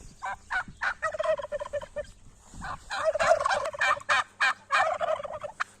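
A white turkey gobbles repeatedly, rapid rattling bursts coming close together, near and fairly loud.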